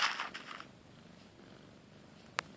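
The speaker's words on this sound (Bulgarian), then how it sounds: "Ако чувате някакво мъркане, ето от котката." Soft purring from a cat in a few rhythmic pulses at the start, fading to near quiet, then a single sharp click.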